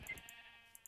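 A sheep in the Minecraft video game bleats once, brief and fairly close, with faint game sounds around it.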